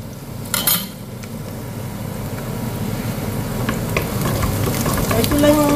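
Utensil stirring marinated chicken with garlic in a pan, a steady sizzle with light scraping and a brief metallic clatter near the start, continuous and close with no talking.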